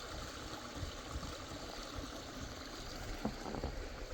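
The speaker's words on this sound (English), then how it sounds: "Great listening to the sound of the river and the birds and everything that's out." A forest river flows steadily in a continuous broadband rush of moving water, loud and close, with a few faint bird calls and small knocks rising briefly above it.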